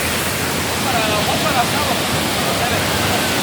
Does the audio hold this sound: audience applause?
no